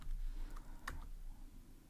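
A few soft keystrokes on a computer keyboard, sparse and close, over a faint room hum with no voices.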